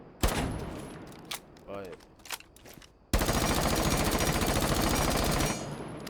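Gunfire from a compensator-equipped gun in Rainbow Six Siege: a few scattered shots and clicks, then a sustained rapid automatic burst lasting about two and a half seconds, loud and close, with brief speech at the start.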